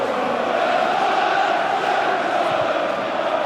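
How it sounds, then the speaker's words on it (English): Tottenham Hotspur supporters singing in the stadium during a match against Arsenal, a dense, loud wash of crowd voices carrying on steadily throughout. "The Spurs crowd singing now, they haven't been like this for a long while."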